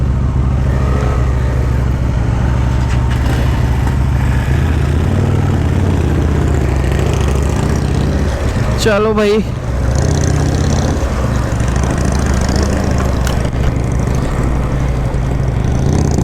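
A Royal Enfield motorcycle rides on the road toward Ladakh with a loud, steady engine drone and wind rush throughout, while a rider's voice speaks briefly near the middle.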